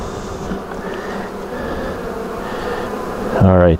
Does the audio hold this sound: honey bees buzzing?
yes